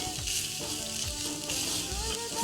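Ukadiche modak filling is sautéed in a pan, making a continuous frying hiss close by, steady and moderately loud, with faint tonal sounds in the background and no speech.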